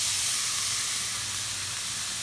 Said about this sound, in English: So then we're gonna put the tomato in next.